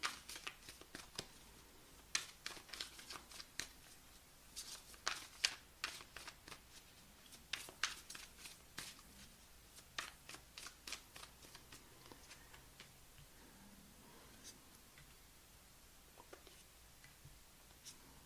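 Tarot cards shuffled by hand in quick repeated riffles and flicks, close and fairly soft, with short pauses between bursts and no voices.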